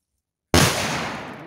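A firecracker detonates outdoors in a forest, one sharp loud bang after a moment of silence, then a long rumbling decay that fades over the following second.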